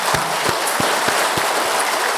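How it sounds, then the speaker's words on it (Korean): A church congregation at a Sunday service claps in welcome, a brief loud burst of sustained applause with a few sharper claps standing out. "큰 박수로 환영하십니다."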